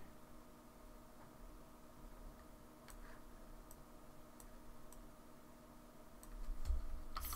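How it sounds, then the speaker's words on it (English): Computer keyboard arrow keys tapped at a desk beside a K40 laser engraver: sparse, faint single clicks spaced irregularly over a steady electrical hum, growing a little louder and busier toward the end. "Here, I'm using the arrow keys to move it around a little bit to get my cut in the right place."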